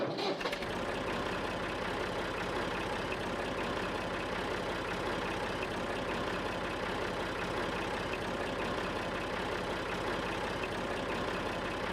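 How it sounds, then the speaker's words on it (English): A tractor engine in Farming Simulator 19 runs at a steady idle, a loud, continuous low rumble close by with no voices over it. "let's go get the tractor."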